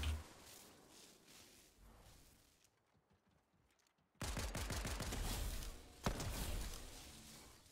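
Rapid gunfire from a weapon in the video game Fortnite, dense bursts of shots with a brief near-silent gap, then a loud renewed volley with a sharp spike, close and continuous.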